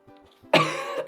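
A single sharp throaty cough from a person, close and fairly loud, preceded by a faint murmur and followed by a brief second burst.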